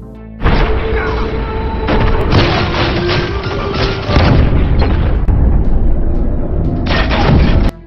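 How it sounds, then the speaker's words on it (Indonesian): Film gunfight with a sustained barrage of loud booms, thuds and gunfire bursts running almost continuously, with a brief lull near the end before another heavy burst. "Baku tembak semakin memanas."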